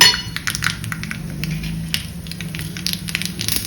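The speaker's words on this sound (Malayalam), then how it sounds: "ഞാൻ അതിലേക്ക് കടുക് 1 ടീസ്പൂൺ കടുക് ഇട്ട് കൊടുക്കാം." Mustard seeds crackling in hot coconut oil, a dense run of sharp irregular pops and spatters at close range.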